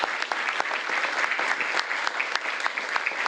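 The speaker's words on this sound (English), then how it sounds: "Give them a big round of applause." Audience applause for the DC Fire and EMS members at a mayoral press event, dense steady clapping from many hands at close range throughout, with no speech over it.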